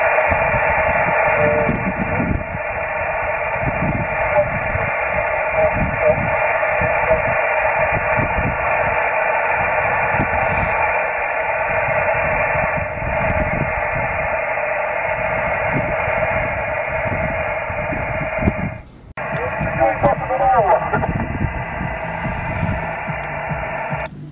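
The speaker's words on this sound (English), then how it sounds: "This is the second picture that I'm sending to Richard over this 105 kilometre path" SSTV picture transmission received over a 105 km optical lightwave link: a continuous warbling tone signal runs steadily under heavy crackling noise, with a brief dropout near the end before the tones resume.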